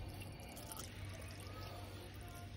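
Green coolant is poured into the reservoir of a Toyota Rush during routine maintenance, a steady liquid trickle and splash running throughout at low level with no one speaking.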